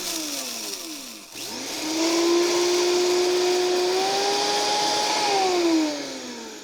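A Vitamix blender grinds Szechuan peppercorns into powder, a loud steady motor whine that dips briefly, spins back up to a sustained high-pitched drone, then winds down slightly near the end, with no talking.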